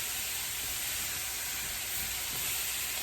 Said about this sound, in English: add in just one more time a little bit more of the liquid amino. Helps to create this steam